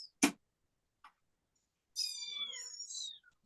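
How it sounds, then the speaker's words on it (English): House cats meow in a quiet indoor room, one drawn-out wavering meow after a couple of sharp taps, with no talking over it. "Let me grab my cats. You hear them just."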